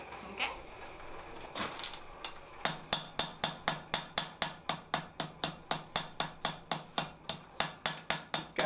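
A wire brush scrubs a freshly welded metal barbell piece clamped in a vice during forging, a steady run of about twenty quick, sharp, evenly spaced rasping strokes, close and clear with no talk.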